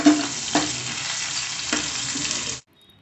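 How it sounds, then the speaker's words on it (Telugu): Ginger garlic paste frying in hot oil while being stirred, a loud continuous sizzle with a few scraping stir accents, cutting off abruptly near the end into silence. "అల్లం వెల్లుల్లి పేస్ట్ అనేది పచ్చివాసన పోయేంత వరకు ఆయిల్లో ఫ్రై చేసుకోవాలి"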